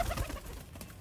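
Sialkoti pigeons give a brief, soft coo, faint and low, heard alone in a short moment.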